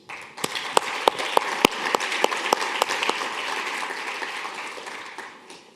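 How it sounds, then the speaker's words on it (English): An audience at a keynote gathering breaks into applause, starting with a few sharp, separate claps that quickly swell into steady, dense clapping from many hands before tapering off. "you deserve a round of applause for this"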